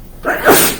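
A single sharp sneeze bursts out close by during a lecture on Anglicanism, a short, loud expulsion lasting under a second with no talking over it.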